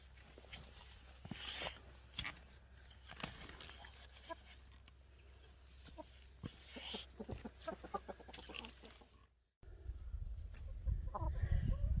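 Hens clucking softly and scratching loosened garden soil in spring, with scattered scuffing and pecking sounds and intermittent clucks at close range, no talking.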